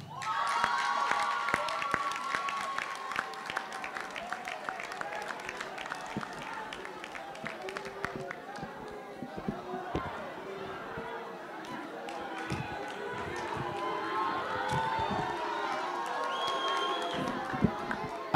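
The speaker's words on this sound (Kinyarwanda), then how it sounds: "Anita rero amashyi menshi kuri Anita wegukanye ikamba ry'igisonga cya kabiri" Audience at the Miss Mulenge World 2023 beauty pageant applauding and cheering for second runner-up Anita, clapping under an announcer's ongoing speech, with crowd chatter and bursts of cheering rising and falling throughout.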